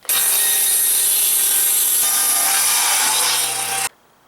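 A table saw fitted with a dado blade set to 5/8 depth and 3/8 width cuts through a wooden board in one loud, steady, close whine lasting almost four seconds, then stops abruptly.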